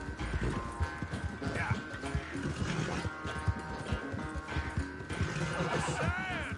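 Horse hooves pound in a steady galloping rhythm during a race in the video game Red Dead Redemption 2, with game music and a voice talking over the hoofbeats throughout.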